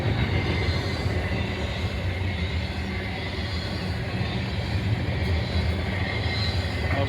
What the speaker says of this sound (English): So this is still mostly a 53-foot train here.